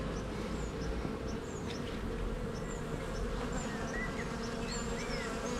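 Honeybees buzz steadily and densely close by during a beehive inspection, a continuous swarm-like drone that holds for several seconds with no talk over it.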